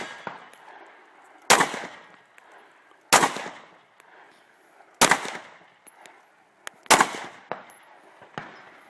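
Handgun shots at shooting practice, four sharp, loud reports spaced about two seconds apart, each with a short ringing tail, plus a few faint clicks and clanks between them.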